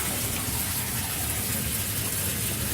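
Water runs steadily from a bathtub faucet into a tub, a continuous broadband rushing with no pauses, close and fairly loud.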